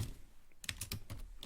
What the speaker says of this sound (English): Oh, my typing's really bad today.